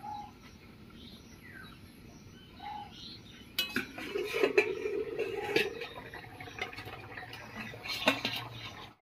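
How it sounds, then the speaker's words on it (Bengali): A lid comes off a cooking pot of thin shing fish curry with pointed gourd and potato, and the pot is lifted off the stove with a run of metallic clatters and scrapes while birds chirp faintly nearby. "এবারে ঢাকা খুলে নামিয়ে নিচ্ছি।"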